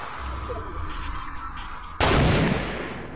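A sniper rifle fires once in the Fortnite video game, a sudden loud crack that cuts through the quieter game ambience partway in and then fades into a lingering rumbling tail.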